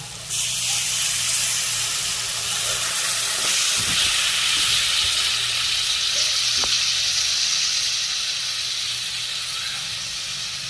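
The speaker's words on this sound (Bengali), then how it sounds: "এবারে দেব গ্রেভির জন্য জল" Water goes into a hot pan of oil and green chilies for the gravy of potato and masoor dal fritters, setting off a loud, continuous hissing sizzle with steam that stays strong throughout.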